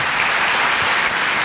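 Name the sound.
congregation applause for a brother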